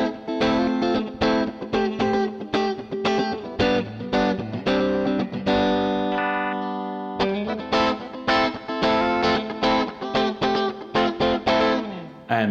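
Electric guitar played through a Tech 21 RK5 Flyrig on the out-of-phase pickup setting, tone knob backed off, with reverb: a run of strummed chords and picked notes, mildly driven, with a sustained ringing chord partway through, alone and close.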